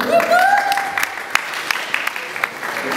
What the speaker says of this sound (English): Round of applause for Sasha.